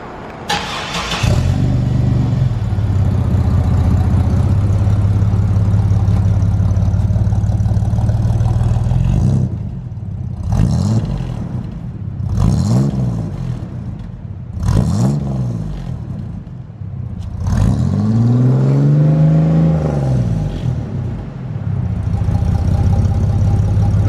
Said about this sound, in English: we're gonna fire this thing up and see what it sounds like